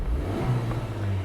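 Engine sound from a 2023 Honda Civic Type R in Plus R mode, piped through the cabin speakers, a short steady mid-pitched drone that swells slightly as if revving, heard from inside the car.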